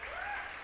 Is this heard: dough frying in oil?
no